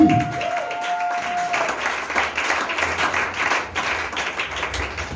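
A church congregation at a French-language sermon applauding and acclaiming Jesus: loud sustained clapping from a large crowd, a dense continuous patter with cheers, close and enveloping after a brief tone at the start.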